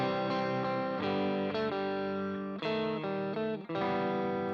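Electric guitar through a Boss ME-90 multi-effects unit with the tremolo off plays a short passage, with distorted, sustained chords that change every second or so, loud and close with no voices.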